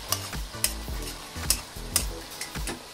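One-pot pasta sizzles over medium heat while a utensil stirs it, with regular scraping knocks against the pan roughly every half second over a steady frying hiss.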